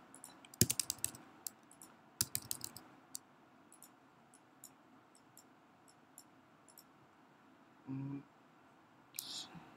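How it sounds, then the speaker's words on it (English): Quiet clicks of keys being typed on a computer keyboard in short bursts, with a brief louder rustle near the end. "I'm just typing the random string"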